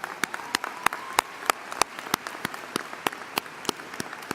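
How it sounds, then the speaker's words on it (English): Audience applause at a university spring commencement, with distinct individual claps sounding in a steady, fairly sparse rhythm at moderate loudness. "Let's give them a round of applause for being here today."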